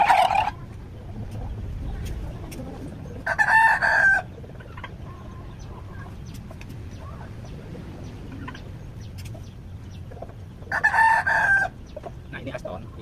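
Crossbred free-range village chickens in a coop, with two loud bursts of rooster crowing a few seconds apart and a short crow at the start, over a steady bed of soft clucking and low farmyard noise.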